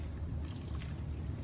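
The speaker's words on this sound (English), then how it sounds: "We got Brady rinsing the spinach. So this is just water in here." Steady running water at a farm wash station where spinach is being rinsed, a close, continuous low trickle and pour with no talking.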